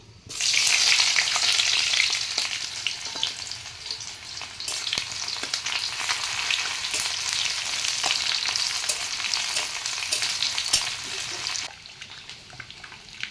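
Chopped onion and dried red chilli frying in hot mustard oil in a kadai, a loud, steady sizzle that carries on for about eleven seconds before dropping to a softer hiss near the end.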